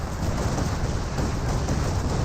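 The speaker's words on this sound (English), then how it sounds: "Now we've got a Panzer Warfare barrage raining in on these forces" An artillery barrage in Company of Heroes 2, a dense, continuous rumbling roar of explosions and crackling debris, loud and sustained without clear separate blasts.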